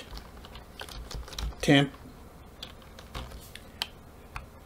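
Keys tapped on a computer keyboard during a Windows 10 cleanup, a few scattered light clicks with one brief louder burst near the middle, faint room noise between.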